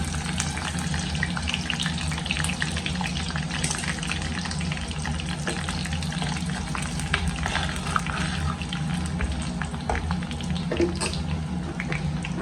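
Steady, loud crackling sizzle of mustard seeds frying in hot oil in a clay pot, continuous throughout with scattered sharp pops and spits.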